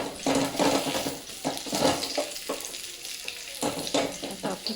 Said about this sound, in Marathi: त्याला छानपैकी आता थोडी नरम होईपर्यंत आपल्याला भाजायची